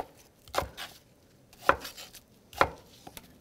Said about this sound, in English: So we're just going for about a medium dice